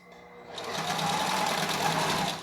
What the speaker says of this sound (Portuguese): agora vamos na máquina de novo, vamos costurar